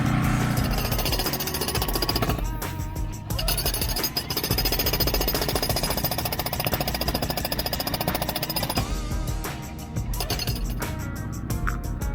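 A jackhammer on a Yanmar VIO55 excavator pounds rock in a ditch in rapid, continuous bursts, loud and close, with short pauses between runs.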